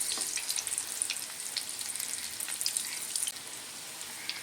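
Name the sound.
vegetable chops frying in oil, turned with a spoon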